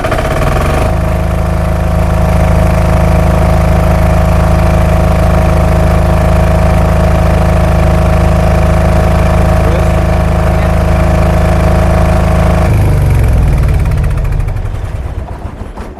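A silent-type generator set runs loudly nearby with a steady, droning engine hum and strong low tones. It holds constant for most of the stretch, then its pitch shifts and it starts to wind down near the end, with no speech.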